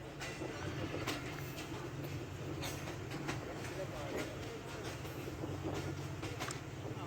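A train pulling into Haveli Lakha Wasawe Wala railway station, a steady rumble with clattering wheels and rail noise, faint and continuous under someone talking.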